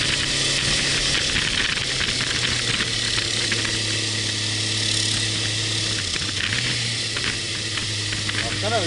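A motorcycle engine hums steadily while riding, its tone dipping briefly midway, under constant wind rush and the faint sound of people talking.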